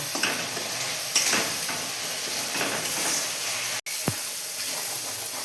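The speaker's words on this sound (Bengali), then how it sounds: "বেশ করে একটু ভাজা ভাজা করে নেব" A spice mixture frying hard in a pan for Bengal gram dal, loud steady sizzle and hiss up close with a few soft stirring strokes and a brief dropout near the end, no talking.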